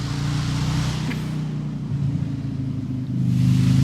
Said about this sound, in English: Here comes the motorcycle.